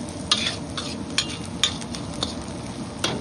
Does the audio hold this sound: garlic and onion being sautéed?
yes